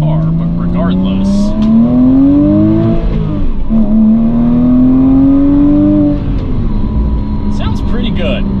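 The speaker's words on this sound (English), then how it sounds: "They both sound pretty good, and that flat six sound is great." Porsche 987 Boxster S or Cayman S flat-six engine and exhaust, a steady rising and falling drone from a sports car, heard close and continuously, with the tone climbing and dropping across the run.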